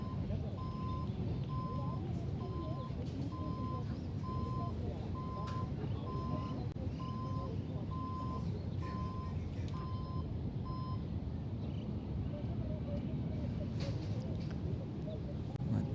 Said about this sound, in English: That beeping you can hear are the dulcet tones of the lunch truck arriving.